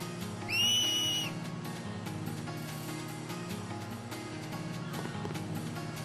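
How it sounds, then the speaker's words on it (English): A finger whistle in the Final Fantasy X video game, used to cheer on Blitzball players: one short, shrill, piercing note near the start, then only a quiet low game ambience. "That's called a whistle."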